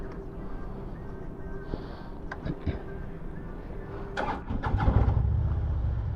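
A fuel-injected Harley-Davidson motorcycle at a fuel stop cranks over and starts, its engine then rising into a loud, rough revving rumble close by after a few clicks and knocks.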